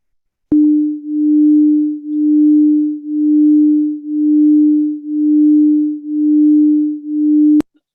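Two steady sine tones at 300 and 301 Hz sound together as one pure hum, swelling and fading in slow, regular beats about once a second for roughly seven seconds, then cutting off cleanly.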